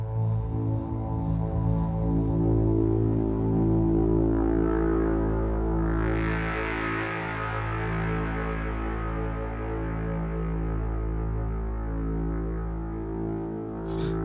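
A long, evolving sound-design drone from Jaeger's Ancient Calling preset, processed with distortion, delay, phaser and reverb, holds a deep harmonic hum throughout while a brighter airy swell rises midway and slowly fades.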